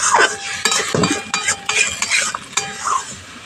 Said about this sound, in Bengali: যে মশলার পেস্টটা তৈরি করে রেখেছিলাম সেটা দিয়ে দিচ্ছি মশলাটা ভালো করে কষিয়ে নেব